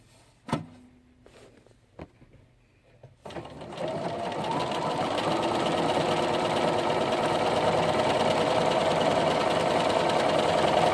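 A Bernina Aurora 430 sewing machine stitching out a letter A, a few isolated clicks and taps first, then a steady, loud, fast mechanical whirr that builds and holds close up to the end.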